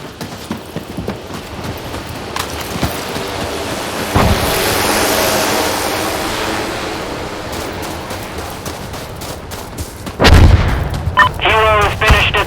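Artillery barrage in the game Insurgency: Sandstorm, set in snow: booming blasts and rumbling impacts roll in from the distance over steady wind-like noise, ending in a heavy, loud burst of explosions near the close.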